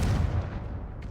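A Confringo blasting spell detonates in Hogwarts Legacy, a single heavy boom with a deep rumbling tail that fades over about a second, followed by a faint bright flicker.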